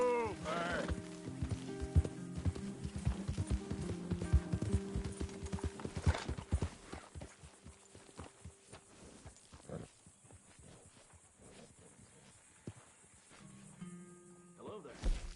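Horse hooves clip-clop steadily in a PS4 video game, loud at first amid other game sounds, then fading to a sparser, quieter patter before picking up again near the end.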